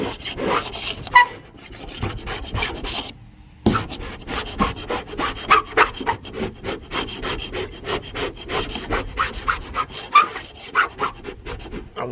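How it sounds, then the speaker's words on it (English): Steady rasping scrapes repeat in quick strokes, scraping WD-40-sprayed adhesive off a van's hard surface, close and fairly loud with brief pauses between bursts. "You spray some WD-40 on the adhesive where the letter was, and when you scrape it, it all comes off."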